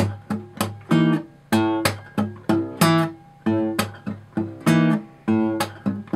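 Acoustic guitar plays quick, percussive muted strums in rapid triplet bursts, sharp choppy attacks mixed with ringing chord hits, repeating in a tight rhythmic pattern.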